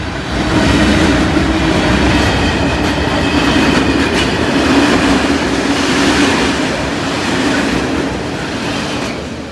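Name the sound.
train passing a level crossing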